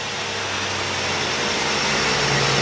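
Engine of a 1986 Ford Mustang GT idling, with a steady, loud mechanical drone and constant hum that changes little and rises slightly toward the end.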